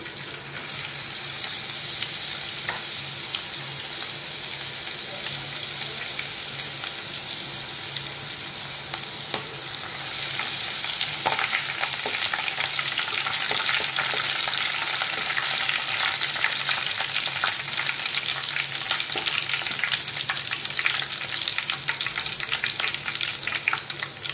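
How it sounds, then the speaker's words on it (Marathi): Mustard seeds, cumin, curry leaves and garlic sizzle and crackle steadily in hot oil close up, a continuous frying hiss that grows a little louder partway through, with no voices. "आपण मोहरी, जिरे, कढीपत्ता आणि लसणाची मस्त अशी फोडणी आपण दिलेली आहे"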